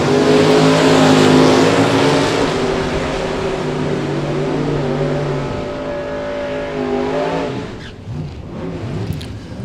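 Loud, close engine roar as drag racing cars launch at a bracket race, one of them a third gen Camaro, with rising revs and a harmonic whine, then fading away down the strip, with no voices.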